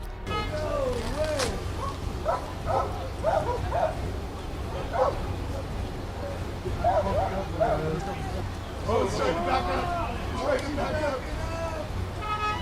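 A police dog barks and yelps repeatedly in short bursts amid shouting voices and engine noise, fairly close, during an arrest at a car.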